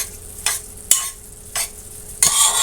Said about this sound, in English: Mixing that around good.